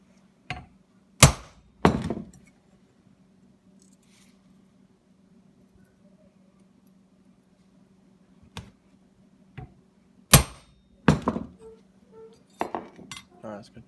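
Sharp metallic strikes ring out as holes are punched in forged steel, in separate bursts, two early and a cluster later, with quiet stretches between and a low hum underneath.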